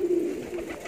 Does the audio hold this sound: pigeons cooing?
yes